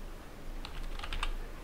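A command being typed on a computer keyboard, with a short burst of about half a dozen quick, light key clicks close by against a quiet hum, with no talk.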